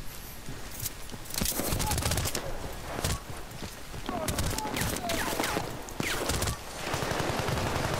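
Gunfire from the video game Battlefield: Bad Company rattles throughout, repeated bursts and single cracks from near and far, with short lulls between volleys and scattered in-game noise layered beneath.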